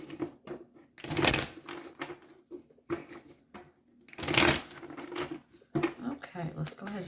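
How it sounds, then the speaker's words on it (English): Oracle cards shuffled by hand in two long riffling bursts with lighter rustles between, close and fairly loud, while a person speaks quietly in the background. "let's go ahead and shuffle"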